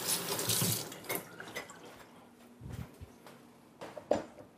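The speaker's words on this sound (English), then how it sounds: "so let's just get this rinsed off" An onion is rinsed under a running kitchen tap, giving a close, soft splashing of water with irregular patters and drips as it is turned in the stream, no talking.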